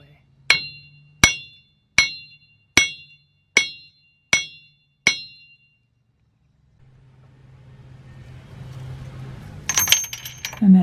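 Seven evenly spaced, ringing metallic hammer taps knock a rear axle shaft out of a Ford F150, each strike loud and crisp, followed by a low rumble and shuffling as the shaft starts to slide free.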